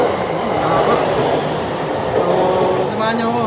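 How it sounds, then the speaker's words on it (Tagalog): A passenger train pulling into a station: a continuous loud rumble with squealing brake tones rising near the end, heard from the platform close by, while someone speaks over it. "Ito na yung tren natin."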